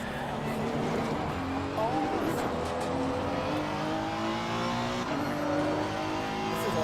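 A race car in the Assetto Corsa Competizione driving game drops down through the gears into a hairpin, its engine note blipping and falling in steady loud harmonics with brief tire noise, with no talking.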